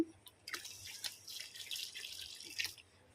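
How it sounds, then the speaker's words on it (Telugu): Quiet splashing of water being poured, with a few soft splashy bursts over a faint background. "ఇప్పుడు నీళ్ళు పోసుకుంటున్నా"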